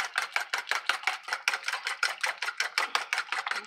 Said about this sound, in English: we just wanted to make sure that our eggs are nice and beaten into the pumpkin mix